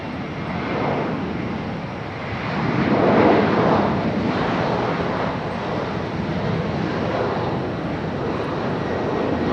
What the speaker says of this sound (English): But we got American, this American 737. On the runway.